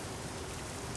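Steady, dense rain pours down in a truck-driving game on a wet road trip toward Bilbao, Spain, a continuous even hiss of drops on surfaces filling the whole moment with no talk.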